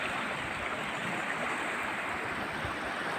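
A mountain river in the Carpathians flowing steadily, a dense, unbroken rush of water with a broad hiss, close and even throughout with no voices.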